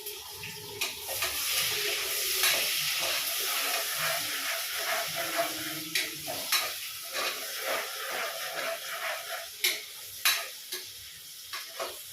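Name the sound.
spices crackling while tempering in hot oil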